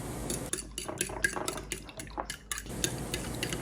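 A spoon stirs a milk mixture briskly in a bowl, producing a steady run of rhythmic scraping and clinking strokes with faint liquid sloshing, close and fairly loud, with no voices.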